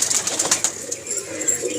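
Pigeons kept in a loft, heard up close as a busy, continuous mix of soft cooing and bird chatter, with a few faint bright chirps over a steady background.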